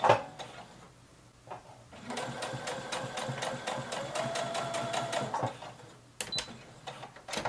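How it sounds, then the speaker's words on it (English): A sewing machine runs close up in a steady burst of a few seconds while stitching a square neckline. Clicks and handling noises come before and after the run, with no talk. "So then I'm just gonna leave my needle down and turn the other way, put my foot down and continue."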